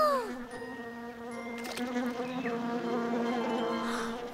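Cartoon bees buzzing together in a bee-themed children's show, a steady, close, droning hum with layered tones that carries on without a break and no voices over it.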